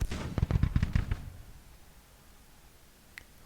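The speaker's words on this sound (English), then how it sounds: "more of the Union forces are bleeding dry as they fell to rifle fire and as they are getting shelled by artillery" Civil War battle in Grand Tactician: The Civil War, with a quick ragged crackle of rifle volleys from Union and Confederate lines over about a second, moderately distant, then near silence and one faint later crack.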